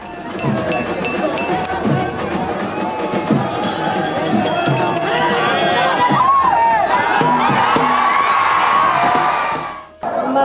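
Devotees cheering for Mallayya at a crowded temple fair, a loud dense roar of shouting voices and whoops with clinking and running footsteps, sustained throughout before briefly dropping near the end.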